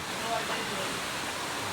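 A waterfall, a deep falls in a forest retreat setting, sends up a steady, dense rush of water, a continuous hiss heard close by and fairly loud.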